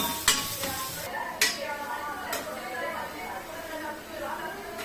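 Onions sautéing in a pan for tomato rice give a constant low sizzle, broken by a few sharp taps and scrapes of a spoon against the pan, close by and moderately quiet.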